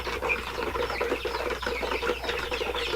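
Young chicks in a coop peep continuously in a dense, steady chorus of high chirps, close and fairly loud, with no talking.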